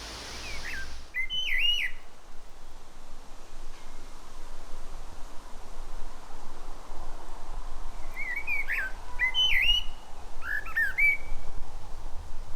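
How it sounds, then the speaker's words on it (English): A young blackbird in a garden gives several short chirping, whistled calls, one near the start and a cluster later, over a steady background hiss with faint rustling. "This is a young blackbird."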